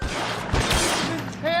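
Gunfire crackles during a shootout in the detective game L.A. Noire, with a few sharp bursts of shots in quick succession mixed with game noise and some talk.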